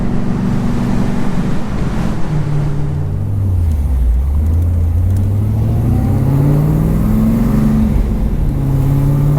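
A car with air suspension driving, heard from inside as a loud, steady engine drone with smooth rising and falling pitch as it accelerates and shifts, road and wind noise underneath, no talking.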